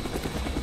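Friendly Cobra attack helicopter in Call of Duty Black Ops multiplayer on PC, a brief burst of steady rotor chop that is loud and close, with no talk.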